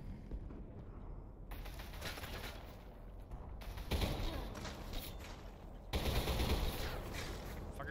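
Bursts of rapid gunfire from the Selaco video game's parking garage level, with an enemy shooting through a wall. Loud volleys crack in at intervals, mixed with mechanical game noise.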